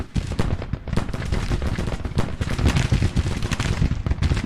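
24-pounder howitzers and musketry on a Civil War battlefield in Grand Tactician, a dense continuous barrage of booms and crackling shots, loud and unbroken throughout.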